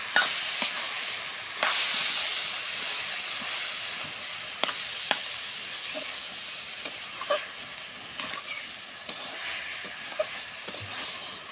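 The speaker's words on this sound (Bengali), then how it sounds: "নাড়াচাড়া দেওয়া হচ্ছে দেখুন।" Food frying in a pan for a village-style dish of watermelon rind and raw banana, a constant close sizzle broken by repeated sharp scrapes and knocks of the stirring spoon.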